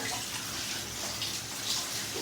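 Water poured into ground spice paste for an onion sambar, making a steady, close rushing hiss that lasts throughout with no talk.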